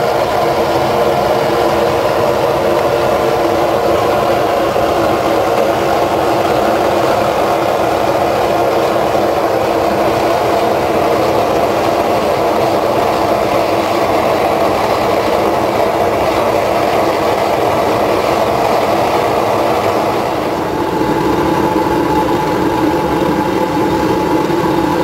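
A scrap-metal melting furnace runs with a steady, loud broadband roar and hum that holds for the whole stretch, dipping briefly near the end before carrying on.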